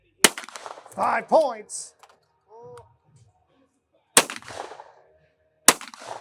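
Shotgun shots fired in a team shootoff, heard as a few sharp, loud blasts spaced seconds apart, with a voice announcing scores between them.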